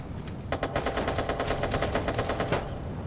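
Rapid automatic gunfire from a police gunfight in Watch Dogs 2, a dense burst of shots lasting about two seconds, loud and continuous, with no talking.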